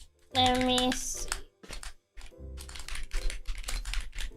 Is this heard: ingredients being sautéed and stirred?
no